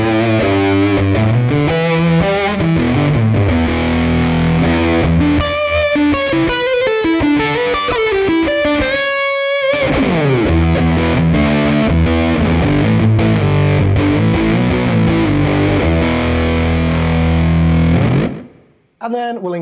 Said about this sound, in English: we'll engage the mode switch, bring the distortion back up, and we get this